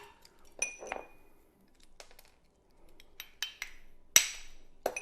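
A spoon's back cracks a large ice cube for a dirty martini: a few sharp, close clinks and cracks scattered among quiet gaps, the loudest knock near the end.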